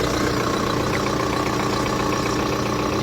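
A 2007 Skoda Octavia Rider engine idles with a steady low rumble and hum, heard close and continuous throughout.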